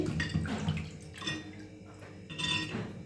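Small fish are washed carefully by hand in a pot of water, with close splashing and sloshing and light clinks of the vessel in irregular bursts.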